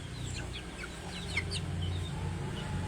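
A binabae rooster, a hen-feathered cock, clucks in short repeated calls, close and clear over a steady low rumble of background noise on a farm.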